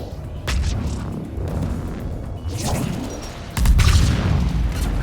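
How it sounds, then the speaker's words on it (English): Fire explosions in the video game Mass Effect 3, a run of dull booms and crashes with whooshing bursts, one heavier blast near the end, all mixed together without pause. "I'm loving these fire explosions."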